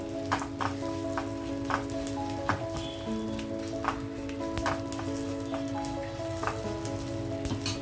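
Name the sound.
garlic and spices frying in oil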